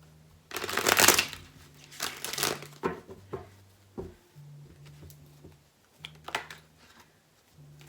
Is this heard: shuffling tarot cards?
yes